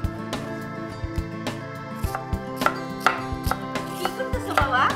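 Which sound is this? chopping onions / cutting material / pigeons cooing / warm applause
chopping onions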